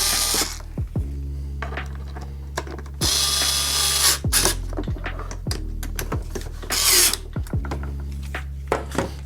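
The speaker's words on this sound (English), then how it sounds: "We're gonna take 2 of our number 2 Phillips screws and we're going to put them right down" Number 2 Phillips screws driven into a compact detail seat tray with a ratcheting driver or power tool, giving repeated bursts of whirring and clicking with short pauses between, close and fairly loud, no talking.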